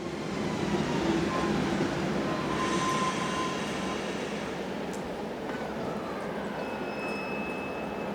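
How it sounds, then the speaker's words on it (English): A veteran railway locomotive runs steadily at close range, its engine a continuous rumble with a faint high whine toward the end. "the veteran locomotive returns to wait its next turn of duty"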